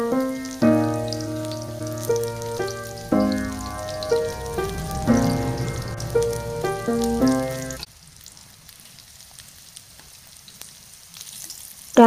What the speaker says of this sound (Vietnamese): Trở phần đầu nhân chiên cho chín và được giòn.